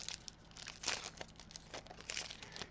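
A Magic: The Gathering booster pack wrapper is torn open and crinkled, soft close-up rustling bursts of foil plastic in an irregular rhythm, quiet with no talk.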